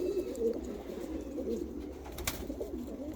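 Pigeons of large Hungarian, Japanese and balloon fancy breeds, including a curly-feathered hen, coo steadily in a loft, a continuous low throaty murmur of overlapping calls at moderate volume.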